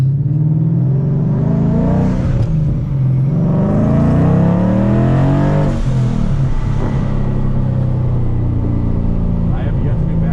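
A pro-charged 2016 Ford Mustang GT with a manual gearbox revs hard through a full acceleration pull. The loud, rising engine roar and supercharger whine climb through gear changes, heard close from inside the cabin.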